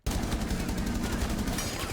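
Gunfire in the video game Rainbow Six Siege, a dense, continuous burst of rapid automatic shots lasting about two seconds, loud and close.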